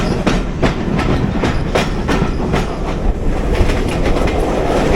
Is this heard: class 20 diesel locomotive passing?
yes